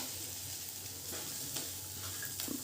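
Homemade chutney sautéing in hot oil for a pavta rassa bhaji, a soft steady sizzle with a couple of light utensil scrapes, fairly quiet and without talk.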